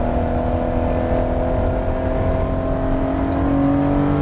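A Lamborghini Espada's engine revs hard as the car drives, giving a steady, loud, close drone that climbs a little in pitch toward the end. No voices are heard over it.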